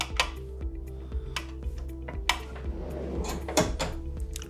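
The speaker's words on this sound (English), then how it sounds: "you can close the cash drawer." A smarttill point-of-sale cash drawer is pushed closed, giving a series of sharp mechanical clicks and knocks, a louder thud near the end, over a low electrical hum.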